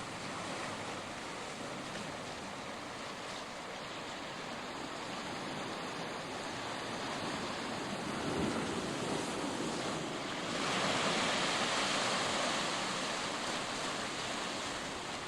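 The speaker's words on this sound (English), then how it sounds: "Listen to the sounds of the waves in stereo." Steady ocean surf washing onto the shore at Acadia National Park, Maine, a broad continuous roar that swells louder toward the end as a wave breaks close by.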